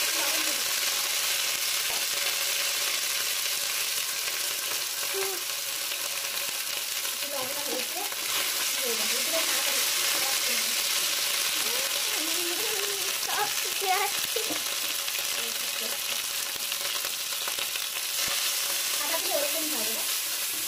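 A pot of vegetable-heavy khichuri is stirred over the heat, a steady sizzling hiss with scraping spoon strokes and occasional talk in the background.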